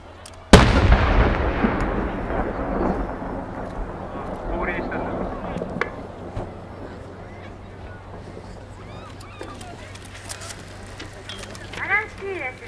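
A sharp burst from a display firework at a Japanese river fireworks festival opens, followed by a long crackling, fizzing decay and scattered pops, with a low rumble and voices in the background.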